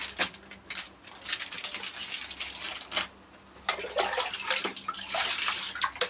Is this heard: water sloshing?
yes